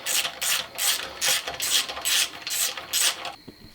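A ratchet wrench runs down bolts on a 1993 Pontiac in a crisscross pattern, giving eight quick bursts of rapid clicking in a steady rhythm, close and fairly loud, ending with a faint metallic clink.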